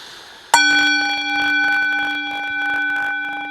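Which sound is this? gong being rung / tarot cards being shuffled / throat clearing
gong being rung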